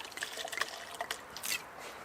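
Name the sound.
white wine being poured into a glass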